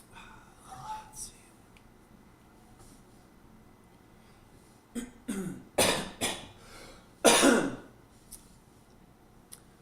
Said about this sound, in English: I have a condition where I cough a lot and it gets in the way of my voice sometimes